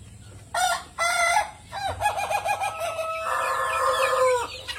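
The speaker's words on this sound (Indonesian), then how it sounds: "Nah, lagi belajar ngokok." A young Ayam Ketawa rooster from Meulaboh still learning to crow lets out several short, wavering, stuttering crow attempts close by, the last one a longer strained note, with no talking.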